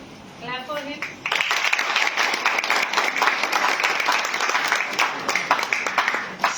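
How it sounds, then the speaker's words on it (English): Audience applause for the chief guest, Dr. Prasanna Deshmukh, at a national memorial seminar: after a short spoken introduction, a loud, sustained burst of clapping from a crowded hall rises at once and holds steady. "Clap for him."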